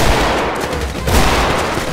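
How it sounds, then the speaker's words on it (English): Loud, close gunfire in GTA 5, a dense continuous volley of shots with no pause, filling the whole moment. "Oh, God, they're shooting me."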